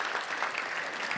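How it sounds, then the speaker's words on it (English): Audience applause at a Little Rock Touchdown Club gathering honoring the Simmons Bank Championship golf tournament, a brief, steady wash of clapping from a room of people, fairly quiet and with no talk over it. "Let's give a round of applause for the Simmons Bank Championship."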